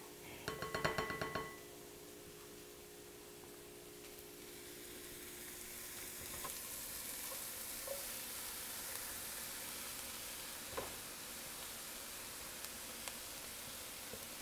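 Mushrooms sizzle as they fry in a pan, a soft, steady hiss that builds slightly after a brief clatter of clinking at the start, faint and close with no talking.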